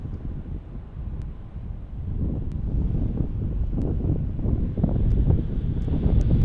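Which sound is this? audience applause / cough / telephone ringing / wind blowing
wind blowing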